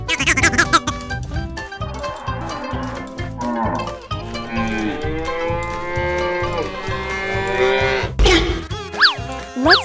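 Cattle moo in long, loud, drawn-out calls during a playful chase, with a busy cartoonish music bed and rhythmic beat throughout and a bright swooping sound near the end.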